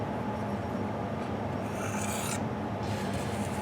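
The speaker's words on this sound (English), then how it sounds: "the steel's so soft that you can run it over a sharpening stone" A steel knife blade rubbed over a sharpening stone makes a steady, close rasping scrape that runs without a break, with a brief brighter stroke near the end and no voices.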